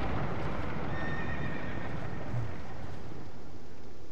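A horse boss in Dark Souls 2 neighs and whinnies over a steady wash of hoofbeats and game ambience, loud and continuous with no talk.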